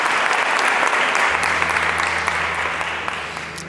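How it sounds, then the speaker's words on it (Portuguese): A church congregation applauds in a sustained, dense wave of clapping that stays loud throughout, with a low steady hum entering partway through. "Quero convidar você a aplaudir essa palavra"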